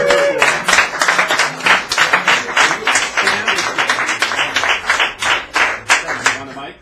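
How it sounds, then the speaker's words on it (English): Audience at a cafe open mic night clapping steadily, a dense run of many hands applauding with fairly even loudness for several seconds, with no speech over it. "Let's give him a round of applause."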